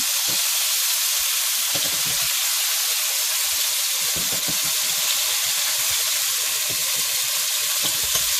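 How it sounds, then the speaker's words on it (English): Oxtail pieces browning in hot oil in a pan give off a steady, loud broadband sizzle and hiss that runs the whole time, with scattered pops and crackles from the spitting fat and no talking. "You want to start out with a little bit of oil just to make sure you brown both sides before you start the process of cooking it down."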